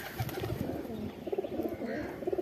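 Teddy pigeons, including a royal teddy, coo in low burbling phrases close by, several short rolling calls overlapping with faint background noise.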